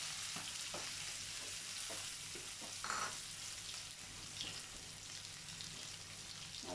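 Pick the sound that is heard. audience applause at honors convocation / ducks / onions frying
onions frying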